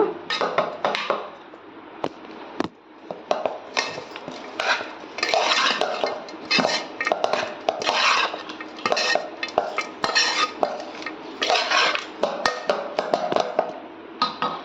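Spoon stirring lemon rice (pulihora) in a metal pot, with repeated scraping and clinking strokes in an uneven rhythm, close and moderately loud throughout.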